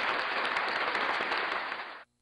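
Steady, dense clapping from a group, fairly loud and continuous for about two seconds before cutting off abruptly into silence.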